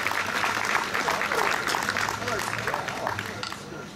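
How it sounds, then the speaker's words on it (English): An audience at a fiddle festival gives a steady round of clapping that holds loud and even for several seconds, then eases slightly toward the end, with a voice faintly under it. "How about a round of applause"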